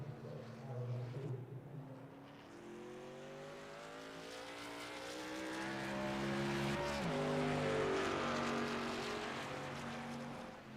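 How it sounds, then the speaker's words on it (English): A pace truck drives in the iRacing game at Michigan International Speedway during a truck series race, its engine a steady droning hum that swells and fades as it passes, continuous with no talk. "Pace truck now makes its way on the pit road"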